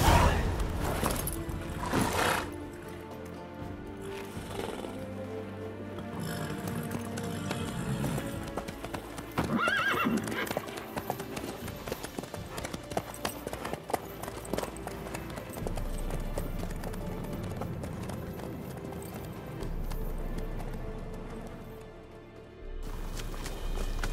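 Horse hooves clip-clop steadily in The Witcher 3 video game, with an occasional neigh, amid game music and ambience that runs the whole way through.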